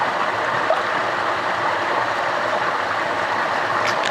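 Water swishing and swirling in a gold pan held under a stream while prospecting, a steady rushing wash of flowing water throughout, fairly close and without talking.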